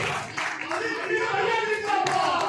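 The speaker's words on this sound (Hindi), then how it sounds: "जोरदार तालियों से इस्तकबाल कीजिए" An audience at an Urdu poetry event breaks into loud applause to welcome a guest, dense clapping throughout with some voices mixed in.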